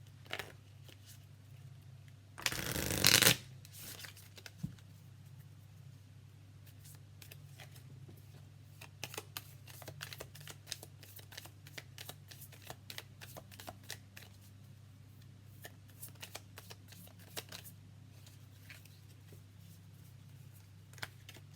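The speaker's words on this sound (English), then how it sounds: "I need to shuffle more" A quick riffle of tarot cards being shuffled, then scattered light taps and card flicks over a low steady hum.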